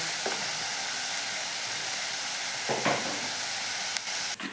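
Onions fry in a pan with a steady, dense sizzle that fills the whole stretch, close and loud, broken by a few brief stirring scrapes.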